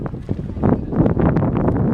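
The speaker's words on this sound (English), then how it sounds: "because it's really windy" Low, blustery rumble of wind buffeting the microphone outdoors at EPCOT, steady and close throughout with gusty fluctuations.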